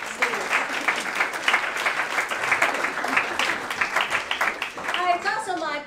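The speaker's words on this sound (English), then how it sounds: "So give yourselves a round of applause for picking those two great students." Students at a school senior day assembly applaud together, a sustained, dense round of clapping from a large crowd filling the room at steady volume before fading out.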